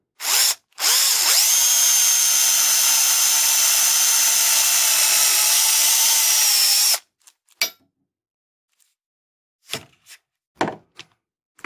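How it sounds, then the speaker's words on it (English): A power drill bores a hole in a wooden window sash, whirring loudly in short bursts, then running steadily for several seconds before stopping, followed by scattered clicks and knocks. "Just drill the hole"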